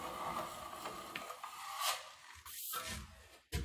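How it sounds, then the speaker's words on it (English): A curved drywall trowel is pulled along a taped seam in a stairway or garage, making close, scraping rasps in a few short, uneven strokes. "Because this is a curved trowel, now I can just pull it along that seam."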